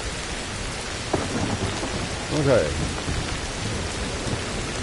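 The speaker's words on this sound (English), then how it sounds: "Oh, that rain is loud. This is really coming down." Heavy rain in the video game Ancestors: The Humankind Odyssey, a dense, steady hiss of downpour with a low rumble under it, and a brief word from a player partway through.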